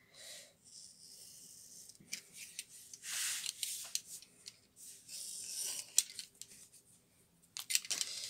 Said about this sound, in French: ensuite je vais venir couper les angles